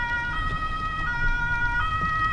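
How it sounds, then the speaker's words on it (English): A police car siren wails steadily as the vehicle passes a 2021 Mercedes S-Class driving on the road, the tones loud and continuous over low road rumble, with no voices. "It's a police car."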